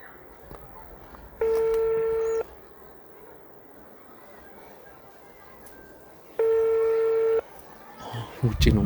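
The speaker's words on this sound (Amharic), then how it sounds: "ልደውልለት፣ ስልኩን አምጣ።" A telephone call rings through on the line, with two steady ringback tones about five seconds apart over a quiet background hiss.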